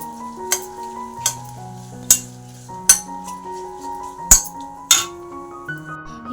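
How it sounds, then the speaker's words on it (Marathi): Fenugreek is stirred and mixed in a container for a hair-care remedy, with a spoon scraping and clinking in sharp, regular strikes over a faint background tone. "आणि हे मेथी छान असं मिक्स करून घ्यायचं आहे"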